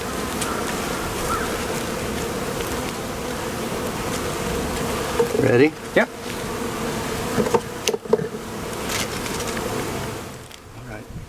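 Honeybees swarm with a dense, steady buzz during a hive installation on a small farm, with bumps and handling knocks midway and brief exchanges between people.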